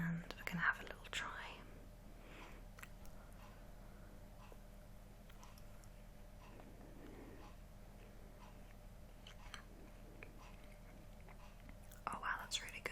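Someone quietly breaks apart and chews American Oreo-style sandwich cookies close to the microphone, soft crunching and mouth sounds scattered through a hushed recording with whispering.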